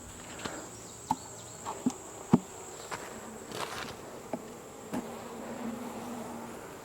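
Honeybees buzzing in an opened queenless hive, a faint, steady drone close by, with soft clicks and knocks of frames being handled scattered throughout.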